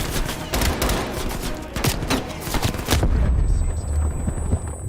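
Call of Duty Cold War gunfire rattles in dense, overlapping bursts and volleys during a combat scene, loud and close for about three seconds before easing into a lower rumble of battle.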